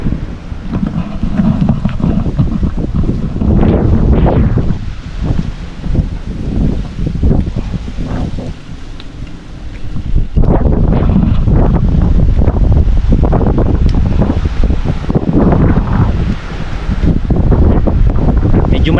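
Strong gusty wind buffets the microphone at a seaside lighthouse, loud rumbling blasts rising and easing in waves with a rushing hiss, surging harder after a brief lull midway.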